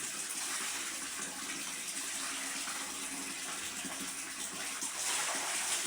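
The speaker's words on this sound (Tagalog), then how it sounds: "Tapos, nagbabanlaw na ako. Dito ko nagbabanlaw." Steady splashing and running water as laundry is rinsed close by, a continuous wash of noise with no talking.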